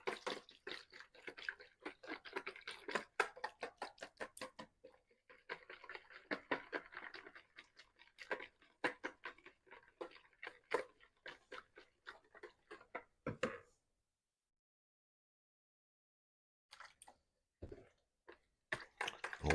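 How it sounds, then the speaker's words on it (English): A whisk beats a pot pie liquid mixture in a bowl, making rapid rhythmic clicks and taps for several seconds, then stopping, then a few scattered strokes after a pause. "We're gonna whisk this together."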